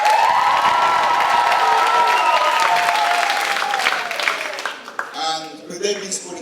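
Sustained clapping and cheering from a poetry slam audience for the teacher liaisons, loud at first and then thinning out toward the end as a voice begins speaking over it.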